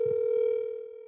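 A single steady electronic phone tone of an outgoing call sounds on a line, faint and continuous for about a second.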